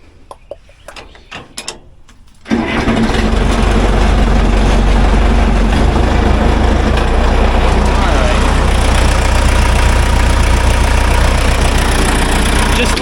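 A backhoe engine, just serviced for the year, cranks and catches at about two and a half seconds, then settles into a loud, steady diesel idle that drones on unchanged, with some faint knocking before it starts.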